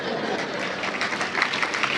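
An audience at a Tamil public talk claps together in a steady, dense burst that fills the hall evenly for a couple of seconds, with no voice over it.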